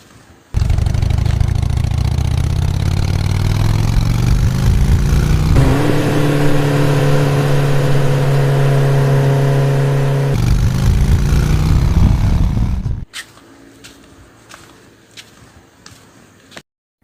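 A motorcycle engine starts and runs loudly for about twelve seconds, droning and revving with a shifting steady tone, then cuts off abruptly, leaving quieter background clicks afterward.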